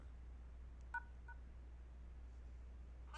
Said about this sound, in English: Just getting dialed into the chat line.